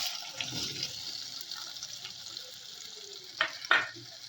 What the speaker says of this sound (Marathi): कांदा तेलामध्ये व्यवस्थितरित्या परतून घेऊया